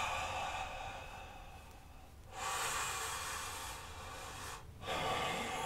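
Deep breaths during a yoga session come through as long, airy exhales and inhales, with two broad breathy swells rising and falling slowly and no speech.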